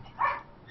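A pet dog gives a single short bark, faint and quick, alone against quiet room background.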